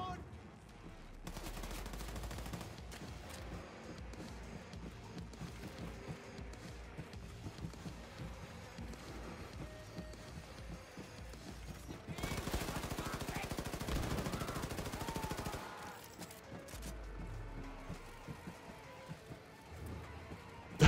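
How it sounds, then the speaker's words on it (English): Rapid bursts of gunfire and booming blasts from a game, dense and continuous, rising to a louder barrage near the middle. "just gunning and running, and you get to dual wield two different guns"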